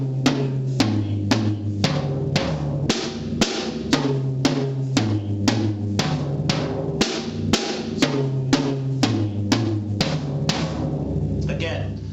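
Drums struck in an even, steady rhythm, pairs of hits moving from one drum to the next, each stroke sharp and close.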